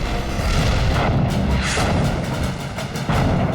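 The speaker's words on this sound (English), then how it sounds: "And it begins with a massive artillery barrage." Massive artillery barrage in a North African campaign battle, a continuous wall of booming gunfire and deep rumbling thuds, loud and unbroken throughout, with no voices.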